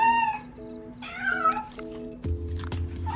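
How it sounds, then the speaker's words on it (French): A small kitten meows several times in quick succession, high and drawn out, over a steady background hum. "Oh, Alix, c'est un chat, un petit chat."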